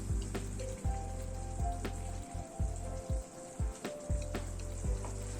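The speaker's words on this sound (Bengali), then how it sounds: "মিনিট 2-3 একটু ফুটিয়ে ঝোলটাকে টানিয়ে নিলাম।" Coorg-style chicken curry gravy bubbling and simmering in a pan, with a steady soft sizzle broken by repeated low popping bubbles and a few light clinks, close and fairly quiet.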